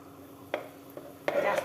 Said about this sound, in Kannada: ಇವಾಗ ಇದು ಎಣ್ಣೆ ಕಾದಿದೆ. ಇದಕ್ಕೆ ಸ್ವಲ್ಪ ಈರುಳ್ಳಿ ಹಾಕೋಣ.